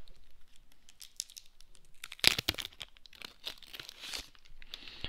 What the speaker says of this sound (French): on va déballer le Fire Stick TV